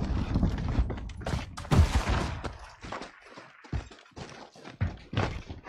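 A fragmentation grenade in the video game Warzone, with repeated thumping, crackling blasts and gunfire-like bursts over about six seconds, busy and fairly loud, with faint voices in the mix.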